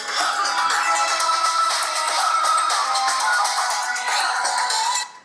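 An Elephone P8 dual-SIM smartphone plays a ringtone at high volume through its back speaker, a bright busy melody loud and close for about five seconds before cutting off, with no talking.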